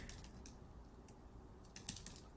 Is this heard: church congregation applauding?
no